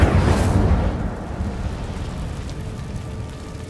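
A fire spell cast in Hogwarts Legacy bursts with a loud, rumbling whoosh at the start, then fades into a sustained crackling, roaring rush that lingers quietly.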